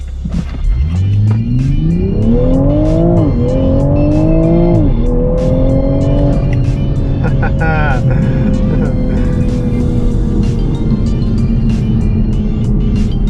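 A tuned 2021 Toyota Supra A91 with a JB4 tuner accelerates hard, engine climbing loudly through several gear changes before settling into a steady high-speed drone with road and wind noise; a voice talks over it.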